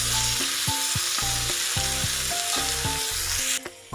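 Grated raw mango frying with curry leaves in a hot oil tempering for spicy tangy mango tokku, a loud steady sizzle broken by repeated stirring scrapes of the pan, near and alone without speech.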